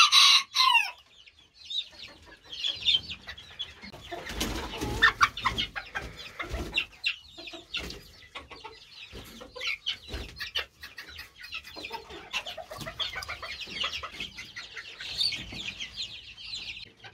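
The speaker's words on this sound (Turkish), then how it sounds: "Elime tavuk alınca bu horozumuzun ne yaptığını biliyorsunuz." A 4.5-month-old serama rooster and hens clucking in a coop, with a rooster crow at the start followed by a steady run of close, choppy clucks and squawks throughout.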